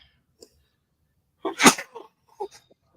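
A single sharp, close sneeze bursts out of near silence, followed by a few faint small sounds.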